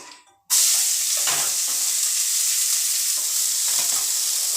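Onions hitting hot oil in a pan with cumin and asafoetida on high flame for Punjabi chole: a sudden loud burst of sizzling that stays as a steady, intense hiss, close by, with faint stirring underneath.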